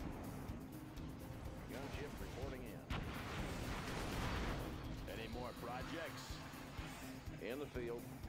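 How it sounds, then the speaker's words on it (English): Gunship bombardment in C&C Generals brings heavy, rolling artillery-like blasts and crashes in a dense, continuous barrage, with short in-game voice lines over the din. "Gunship bombardment."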